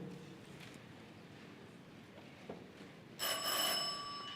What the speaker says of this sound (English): If you want to answer, ring your bell.